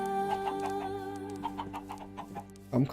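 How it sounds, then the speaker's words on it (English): Minecraft chickens cluck in a quick series of short, clear in-game calls over a steady tonal music backdrop, with a brief louder burst near the end. "Come here, chickens."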